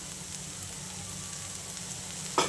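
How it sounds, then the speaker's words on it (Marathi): Vegetables sautéed in a pan with salt and coriander give a steady, soft sizzling hiss throughout, with one short clatter near the end. "तर हे परतून घेऊया"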